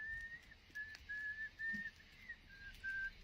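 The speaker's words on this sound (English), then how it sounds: "I wouldn't be out here whistling by myself" A person whistles outdoors in a steady, fairly high-pitched run of short held notes with brief gaps, faint and alone over a quiet background.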